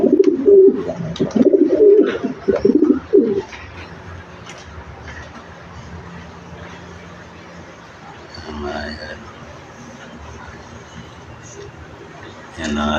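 Racing pigeons coo loudly and repeatedly up close for the first few seconds, then fade to faint background cooing and rustling with a brief voice later.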